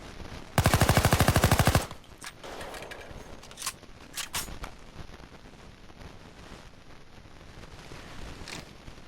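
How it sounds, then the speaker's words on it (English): A Skorpion (Cobra) submachine gun in the game Payday 2 fires one loud, rapid automatic burst of about a dozen shots, followed by a few faint clicks and handling noises. "when I shoot that first bullet, it went all the way to the left and went all the way up vertically"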